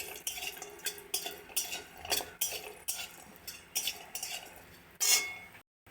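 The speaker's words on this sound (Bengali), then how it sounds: "ওই তেলের মধ্যে একটু বড়ি, বড় বড়ি একটু ভেজে নেবো হালকা করে।" Lentil dumplings (bori) fry lightly in oil while being stirred. A spoon scrapes and clinks against the pan in a regular rhythm over a soft sizzle, close up, ending in a brief silence.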